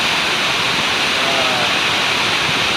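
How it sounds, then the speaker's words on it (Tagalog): Kapandagan Falls in San Gabriel, La Union roars as a loud, continuous broadband rush of falling water, close and steady with no breaks. "dito po tayo ngayon sa may Kapandagan Falls, dito sa may part po ng San Gabriel pa rin."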